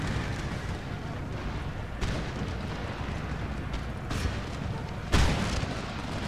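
Artillery guns firing in the Empire Total War battle game, several deep booming shots spread over a continuous rumbling din of battle noise, with the strongest blast near the end.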